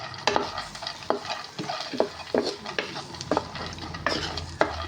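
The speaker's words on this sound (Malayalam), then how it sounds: "അതിലേക്ക് തന്നെ പ്ലംകിൻ സീഡ്സ്, മത്തക്കുരു ഇട്ട് കൊടുക്കാം. അപ്പോൾ അതൊന്ന് ചൂടാക്കിയെടുക്കാം" Ragi and pumpkin seeds rattle and scrape in a dry pan as they are roasted and stirred, with a soft sizzle underneath and a few sharper clinks of the spoon.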